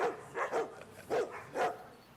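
Four sharp dog barks in two quick pairs, fairly close, with short quiet gaps between them.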